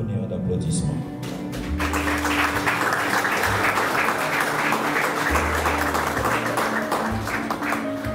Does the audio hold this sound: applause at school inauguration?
yes